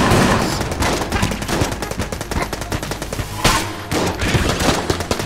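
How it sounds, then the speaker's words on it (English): Rapid-fire weapon shots from the video game Enter the Gungeon rattle off in dense, fast bursts, loud and continuous with a brief pause before firing resumes. "Hey, it's a rapid firing weapon."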